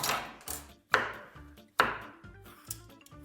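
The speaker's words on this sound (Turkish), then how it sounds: "Kabak kesmek ne kadar eğlenceliymiş" A knife chops through zucchini on a cutting board, five or six sharp, close cuts at an uneven pace, each with a crisp attack and a short thud, with no talking.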